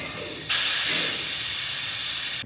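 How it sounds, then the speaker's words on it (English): Brake fluid being drawn from a brake reservoir with a brake sucker bottle, a sudden steady airy hiss starting abruptly and holding loud and close. "And with the brake sucker bottle, you can put it in here and suck it out."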